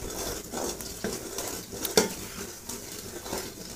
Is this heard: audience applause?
no